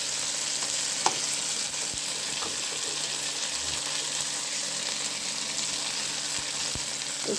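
Ginger, garlic and chilli paste with turmeric frying in a pan, an even, steady sizzle heard close up, with a few faint clicks scattered through it.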